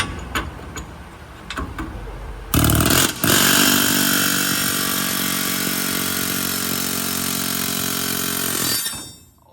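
An air hammer buzzes torsion bars out of a race truck, starting with a few sharp knocks before a loud, sustained pneumatic rattle runs for several seconds and then cuts off.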